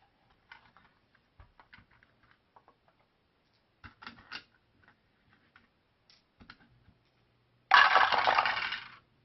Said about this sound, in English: So now you can feed your dice into one at the top, and they come in two at the bottom.